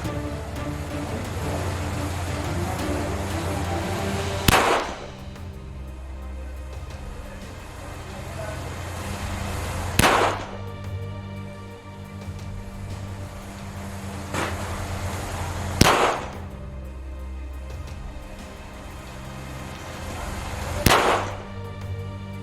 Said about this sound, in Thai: เราทดสอบเนี่ยโดยใช้ลูกจริงนะครับ Full Metal Jacket นะ FMJ ในการทดสอบครับ พร้อมแล้วเริ่มยิง